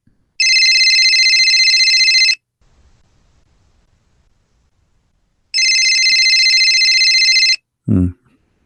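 A telephone rings in two long electronic bursts separated by a silent pause, loud and close, with no one picking up; a brief low thump follows at the end.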